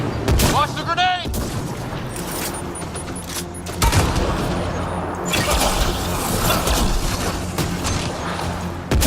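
In the Mass Effect Andromeda video game, gunfire rattles and a grenade explosion booms in a combat scene, with dense, loud bursts and sharp impacts under shouted voices.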